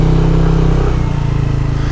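A Yamaha Aerox scooter engine idles steadily while warming up, with a close, even, low mechanical hum and slight clatter throughout, no one speaking.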